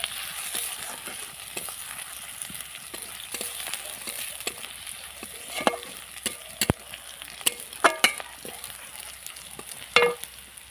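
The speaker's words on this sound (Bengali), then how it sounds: "রসুন বাটাটাও একটু পেঁয়াজের সাথে ভালো করে ভেজে নেবে।" Garlic paste fries with onion in a pan for a Bengali-style soybean and potato curry, a continuous close sizzle broken by scraping stirs and a louder clatter near the end.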